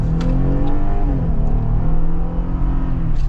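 A 2023 Jeep Wrangler V6 accelerating at full throttle, its engine note climbing loudly and steadily in pitch, heard close and continuous without talking.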